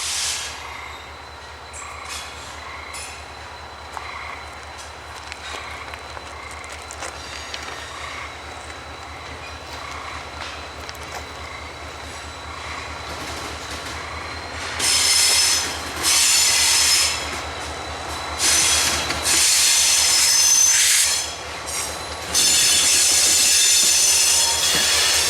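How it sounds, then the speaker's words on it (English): A nighttime switcher train rolls through Lewiston Junction on the St. Lawrence & Atlantic line, a steady low rumble and clatter giving way to loud, repeated wheel squeals in the latter half, with no voices. "5:15 at Lewiston Junction, the nighttime switcher."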